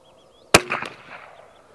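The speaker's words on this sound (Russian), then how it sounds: "Так, выстрел." A single sharp gunshot from a Retay .22LR rifle held tilted at 45 degrees cracks close and loud, then decays quickly with a brief echo tail.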